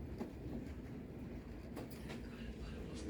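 A passenger train rolls toward Budapest, heard from inside as a steady low rumble with faint wheel clatter and a few soft knocks and squeaks, fairly quiet throughout.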